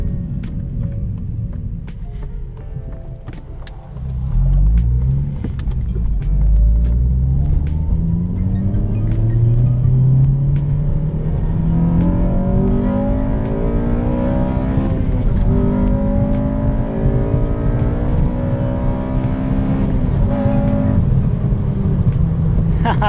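A car engine revs and pulls through the gears while driving, a loud, steady rising drone that climbs in pitch repeatedly from about four seconds on, with lighter road rumble before it and no talk over it.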